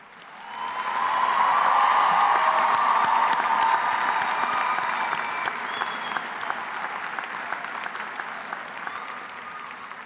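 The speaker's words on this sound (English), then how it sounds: "join me in a round of applause to honor those who have supported you" Graduation commencement audience gives a sustained round of applause honoring family and friends, loud dense clapping swelling quickly and holding steady, with a faint cheer or voice rising above the crowd.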